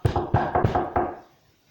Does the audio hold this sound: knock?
yes